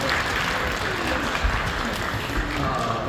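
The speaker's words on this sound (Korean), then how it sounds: "다시 한번 소망대교구 격려하는 마음으로 박수 한번" A church congregation claps steadily and loudly for a few seconds during a worship service, a dense, even wash of applause with no break.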